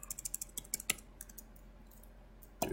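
Code is typed on a computer keyboard in a quick run of close, crisp keystrokes, then a short pause and a final cluster of clicks.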